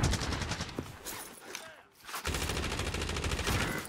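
Rapid automatic gunfire rattles in Warzone, loud and dense, with a short lull in the middle before another sustained burst of shots, while a player talks faintly underneath.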